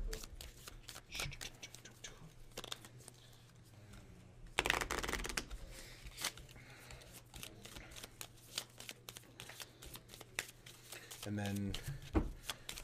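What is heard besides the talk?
shuffling cards for the Fireball Island board game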